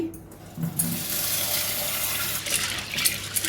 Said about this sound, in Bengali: এই ছোলার ডালটা ধুয়ে নিচ্ছি।